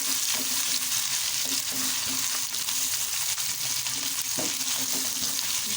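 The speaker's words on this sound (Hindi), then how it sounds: "मसाले को आपने बस अच्छे तरीके से फ्राई करना है" Masala of onion and ginger frying in a pan for white chickpeas, a steady loud sizzle with occasional stirring scrapes throughout, no talking.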